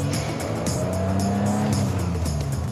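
A classic BMW straight-six engine is driven on the road, a smooth, musical hum whose pitch shifts as it climbs and eases through the revs, loud and close, with no voices.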